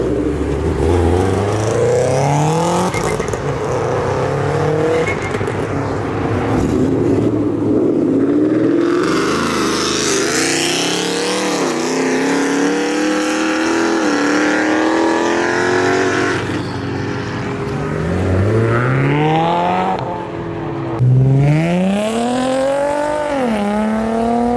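A supercharged Nissan Murano revs hard while leaving a car meet, its engine climbing and falling in pitch through several loud, close pulls amid other traffic noise.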